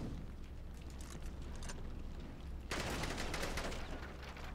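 Gunfire in the video game The Bourne Conspiracy, faint bursts of rapid shots followed by a denser, louder volley of automatic fire.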